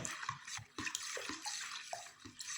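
Cake batter for a layered moist cake is whisked by hand, giving rhythmic wet, sloshing strokes roughly twice a second, close and continuous with no speech.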